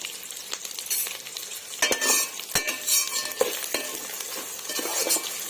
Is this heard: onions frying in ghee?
yes